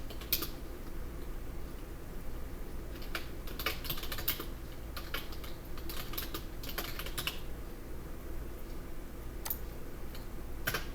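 Computer keyboard typed on while coding, light rapid key clicks in scattered clusters over a constant low hum, close but fairly quiet, with no talking.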